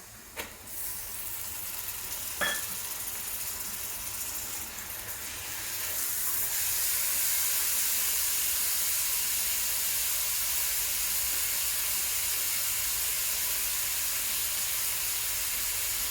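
Ginger, garlic and green chilli frying in a pan, a steady broad hiss of sizzling oil that swells louder around the middle and then holds, with a couple of sharp clicks early on and no talking.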